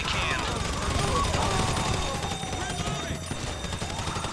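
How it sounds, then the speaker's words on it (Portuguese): Continuous gunfire and crashing action from GTA V during the Pacific Standard heist, with shots fired at a door, a dense loud barrage under game noise with faint talk mixed in. "É só atirar na porta que a porta abre"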